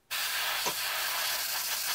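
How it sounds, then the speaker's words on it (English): An airbrush sprays thick, undiluted paint, giving a steady, close hiss that starts abruptly and holds for about two seconds with small sputters, with no talk over it. "Doesn't like spraying thick, neat paint."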